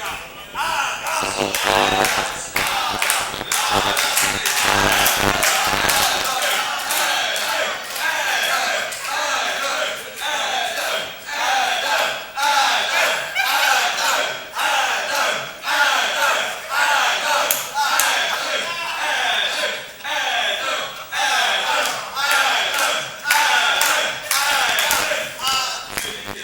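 Live crowd at the 2023 Classic Tetris World Championship cheering, shouting and clapping in rhythmic bursts, loud and sustained with a voice over a microphone at times.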